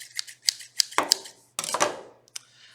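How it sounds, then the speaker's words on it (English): Self-opening fancy scissors snip through paper in a series of short crisp cuts, close and fairly loud, with brief pauses between bursts. "I have some fancy scissors that they open themselves."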